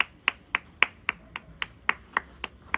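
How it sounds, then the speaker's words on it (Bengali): Hand claps at a small celebration for a short film's motion poster release: about ten sharp, evenly spaced claps in a steady rhythm, fairly quiet and close, with no other sound around them. "আমি হাততালি দিচ্ছি"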